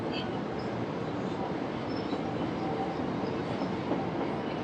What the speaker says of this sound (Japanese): 電車のガタンゴトントンと聞こえてますか？